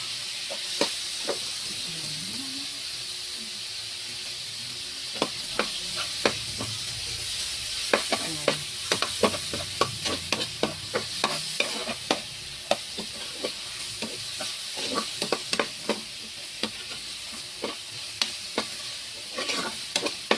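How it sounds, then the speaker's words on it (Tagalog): A little pork fries in an old, long-used pan, a constant close sizzle punctuated by frequent sharp clicks and scrapes of a utensil stirring, with no talking. "pinirito ko muna yung kunting pork"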